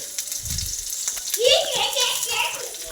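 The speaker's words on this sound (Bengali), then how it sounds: "এবার আমরা পেঁয়াজ দেবো পেঁয়াজগুলো একটু লাল লাল হয়ে করে ভাজবো" Chopped onions dropped into hot oil in a wok-style pan for a bean mash, giving a rising hiss and sizzle after a brief clatter, steady and close, with a person talking over it.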